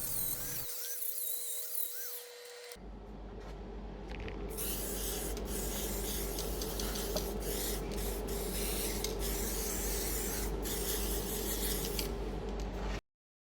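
Spray primer hisses steadily over a welded, masked-off panel on a neglected Vauxhall Calibra, a loud continuous broadband spray running nearly the whole time after a brief quieter start.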